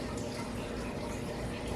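Cold water pours into a bowl in a home kitchen, a steady close splashing wash lasting the whole moment with no voices.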